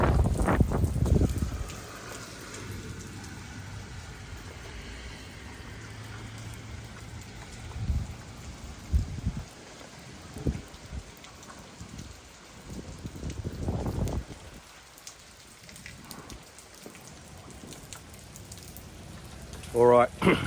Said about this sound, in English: it's just raining, no flooding yet